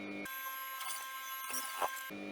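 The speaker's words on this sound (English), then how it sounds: "I'm going to stitch it down" A sewing machine stitching down fabric for a welt pocket, with a steady whirring hum that stops briefly and resumes, close and moderately quiet.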